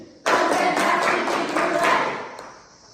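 A class claps the tepuk konsentrasi pattern together, a burst of group hand claps in a patterned rhythm that runs about two seconds before fading, with no talk over it.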